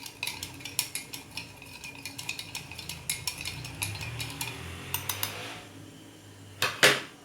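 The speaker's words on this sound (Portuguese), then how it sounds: "Pode mexer bem, tá? Pra dissolver bem o açúcar." A spoon clinks and scrapes repeatedly against a dish while stirring sugar and water into a syrup for a microwave pudding, steady light taps throughout with a sharper clatter near the end.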